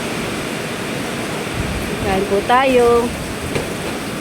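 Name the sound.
heavy rain during a typhoon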